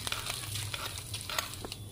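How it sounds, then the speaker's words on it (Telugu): Hot fried tempering goes into gongura onion chutney, producing a brief, faint crackling sizzle with a few sharp pops and spoon taps, close and quiet, with no talking. "చూడండి, వేయించిన తాలింపుని ఇట్లాగా పచ్చడిలో వేసేసుకుందాం."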